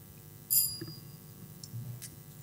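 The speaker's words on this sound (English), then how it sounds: "The bell is gone." Quiz-time bell at a school quiz contest, a short bright ring followed by a couple of fainter dings over a quiet room.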